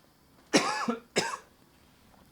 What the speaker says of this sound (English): Sorry, I had a cough.